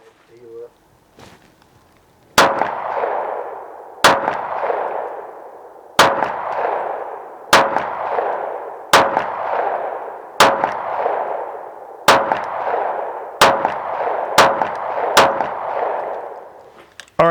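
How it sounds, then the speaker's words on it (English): A 9mm Springfield XD Mod 3 pistol fired at a target about 10 yards away, with nine sharp, loud shots spaced roughly every one to two seconds, each followed by a short ringing decay. "Let's shoot it some more and see what we think."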